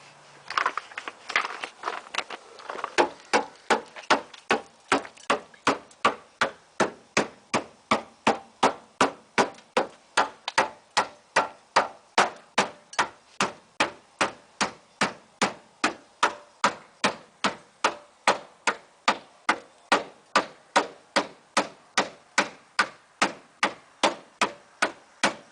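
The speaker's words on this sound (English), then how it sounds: "Just going to take the rubber mallet and pound them up on into the fender again." Rubber mallet pounding cut metal sections back into the fender of a Jeep Cherokee XJ, a long steady run of sharp, evenly spaced blows, roughly two per second, close and loud with no talking.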